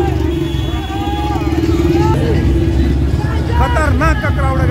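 A large, dense crowd at a Ram Navami procession at a busy chowk in Purnia, with loud continuous hubbub and overlapping voices, a steady low rumble, and a sound vehicle and traffic moving through the throng.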